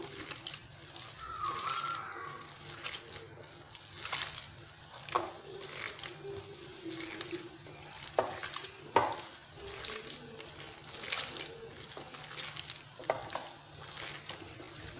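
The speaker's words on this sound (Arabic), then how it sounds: "بهذه الطريقة نخلط الخليط تاعي مليح" Tajine mixture being stirred in a bowl gives soft scraping and wet sloshing strokes with occasional sharper clinks against the container. The strokes repeat irregularly, close up, and nothing else is audible.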